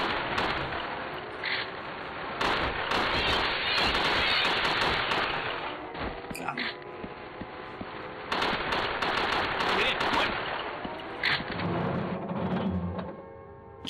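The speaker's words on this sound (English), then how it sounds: "I'm just going to shoot everything." Gunfire in Resident Evil Darkside Chronicles: rapid bursts of shots crackle in clusters across the stretch, loud and near, with brief gaps between volleys and game effects rumbling underneath.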